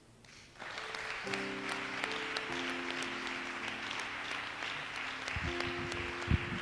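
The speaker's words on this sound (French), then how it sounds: "Tu sais, acclamons pour Élisée." A church congregation applauding together during a French-language sermon, a steady sustained wash of clapping that starts abruptly and fills the room, with a faint voice or tones underneath.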